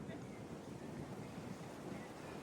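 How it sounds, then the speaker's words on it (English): Wind gusting steadily outdoors at a bird sanctuary, a continuous broadband roar buffeting the microphone for the whole stretch, loud and unbroken with no distinct events. "can you hear the wind"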